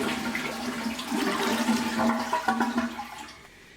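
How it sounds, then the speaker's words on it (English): Water rushing steadily into a toilet tank through a slow refill valve, a continuous hissing fill that stays loud and even before fading toward the end. "In my case, it's taking forever to fill the tank back up."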